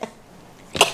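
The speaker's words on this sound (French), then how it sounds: "Je vais éternuer." One sharp, close sneeze bursts out near the end after a few moments of near silence.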